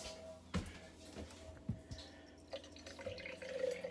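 Water from a trailer faucet, only a thin, barely running stream, gives quiet irregular drips and splashes and then a faint steadier trickle near the end, close and soft, with no talk.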